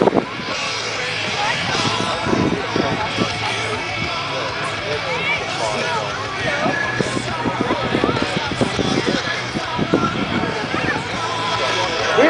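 A Dodge pickup tough truck races over dirt jumps at an event, its engine roaring steadily with bumps and rattles throughout, beneath a constant announcer's voice.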